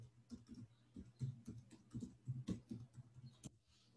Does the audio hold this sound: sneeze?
no